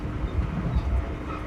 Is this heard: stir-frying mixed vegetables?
no